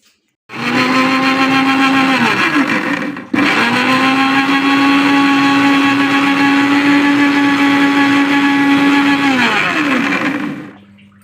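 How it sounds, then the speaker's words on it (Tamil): An electric mixer grinder runs steadily for about ten seconds, grinding ginger and garlic into a paste. The loud motor whine holds level, breaks briefly after a few seconds, then resumes before slowing and stopping, with no voices. "பூண்டு, நம்ம இதை பேஸ்ட் பதத்தில் அரைச்சி எடுத்துக்கலாம்."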